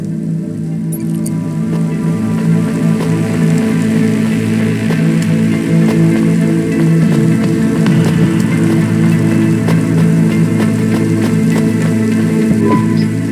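Steady rain falls in the Cloudpunk video game city, a constant dense patter over a low electronic hum, loud and even for the whole stretch with no talking.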